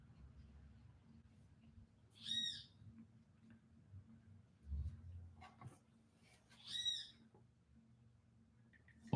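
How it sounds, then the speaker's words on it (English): A kiskadee calls twice, loud bursts of harsh, squawking notes several seconds apart, over a steady low hum, with a brief thump between the calls. "It's called a kiskadee. The most annoying bird in history."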